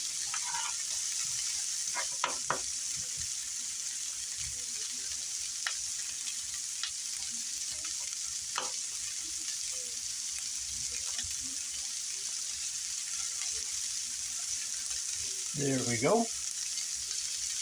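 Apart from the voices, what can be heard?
garlic and onions sautéing in oil in a pan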